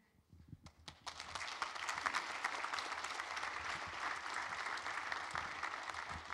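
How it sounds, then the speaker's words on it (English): At DevOpsDays Minneapolis 2014 Ignite talks, a conference audience breaks into applause for the speakers, with a few scattered claps first and then a dense, sustained ovation. "one more round of applause for all of our fantastic speakers"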